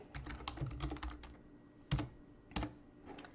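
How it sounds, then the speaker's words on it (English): Typing on a computer keyboard: a close burst of rapid key clicks, then a pause and two or three sharper separate keystrokes, alone without speech. "type in your thoughtful reply"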